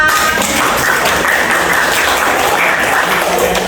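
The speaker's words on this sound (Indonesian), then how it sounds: "Tepuk tangan buat kita semua." Loud, dense applause from a school audience at a mathematics lesson, a continuous roar of many hands clapping close by with no break.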